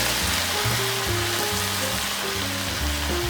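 Perilla shoots sizzle and crackle steadily in a hot pan, a dense, loud frying hiss with a low hum running through it and no voices.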